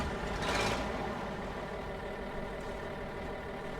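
Heavy truck engine in the SnowRunner game, Ontario map, catching with a brief louder burst near the start, then settling into a steady low idle alone with no talk.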